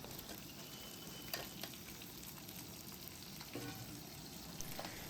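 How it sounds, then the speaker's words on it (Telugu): Crabs frying and being stirred with onion, ginger and garlic paste in a pan: a faint, steady sizzle with occasional light scrapes and ticks of the spoon. "ఈ పీతలు వేసుకొని బాగా కలుపుకోవాలి"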